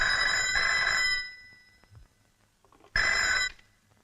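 Telephone bell ringing, two bursts of bright metallic trilling about a second long separated by a pause, fairly close with a quiet room between rings.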